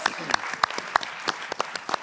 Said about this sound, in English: Can we have a round of applause for our elected officials?